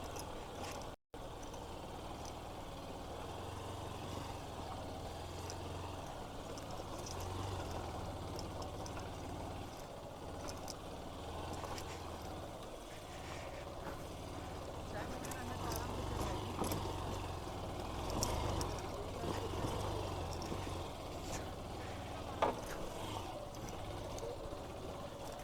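Motorcycle engine idling and ticking over in first gear on a ride through a valley, a steady low rumble throughout with continuous background noise and a brief dropout near the start.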